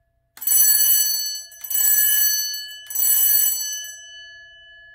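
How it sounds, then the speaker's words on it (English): An old alarm bell converted into a telephone ringer rings in three loud, bright metallic bursts, each a rapid clattering ring with a sustained tone, separated by short gaps and fading out at the end. "And we have a phone ringer."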